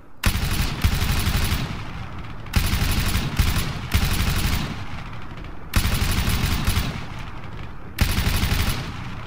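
M249 machine gun in the Arma 3 video game firing in long bursts at high rate, four loud sustained strings of rapid shots separated by short pauses.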